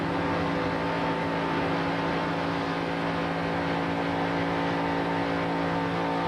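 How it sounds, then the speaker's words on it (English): An ARCA stock car at Daytona runs with one cylinder dead, its engine a steady, droning hum with strong tonal harmonics, continuous and even, with no talk over it. "So Bowser's car, obviously on 7 cylinders."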